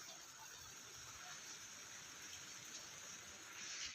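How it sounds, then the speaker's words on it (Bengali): Rain falls steadily under a heavily clouded sky, a dense, even hiss of drops that holds at constant loudness for about four seconds with no voices. "আর বৃষ্টি পড়তে শুরু করে দিয়েছে।"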